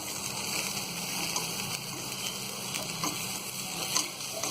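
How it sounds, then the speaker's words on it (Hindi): Dry black chickpeas with chopped coriander and mint stirred in a pan, a soft steady sizzle with faint scraping of the spoon, quiet and continuous without talk. "अब डाल देंगे बारीक कटा हुआ हरा धनिया और पुदीना। अच्छी तरह इसे भी मिक्स कर लेंगे"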